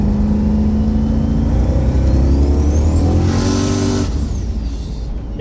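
A turbocharged 5.3 V8-swapped Pontiac Firebird at a drag strip revs hard and climbs in pitch as it accelerates, loud and close, then cuts back with a rushing whoosh.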